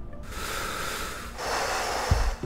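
Injured patient in the first-aid game Accident: The Pilot breathing in and out, soft steady airy breaths close up with a short snort-like catch near the end, no talk.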